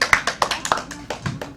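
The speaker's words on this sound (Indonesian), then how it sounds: "Tepuk tangan murid-murid." Students clap their hands in a classroom, giving a brief burst of about a dozen quick, uneven claps heard close up.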